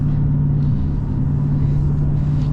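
Dodge Challenger SRT 392 Scat Pack driving at high speed on an open road, heard from inside the cabin as a steady, loud low engine drone with a constant hum and road rumble, no pauses.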